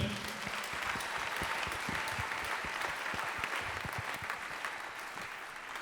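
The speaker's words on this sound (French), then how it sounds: "Applaudissez pour le Seigneur." A church congregation at a Sunday prayer mass bursts into sustained applause, steady dense clapping filling the space at moderate distance with a few voices mixed in.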